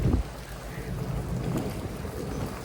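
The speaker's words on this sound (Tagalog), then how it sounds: "umuulan pero hindi naman masama yung ulan talaga" Steady rain falls on Siquijor island in the Philippines, a continuous broadband wash with low rumbling undertones, like wind or distant thunder, holding at an even moderate level throughout without any voices.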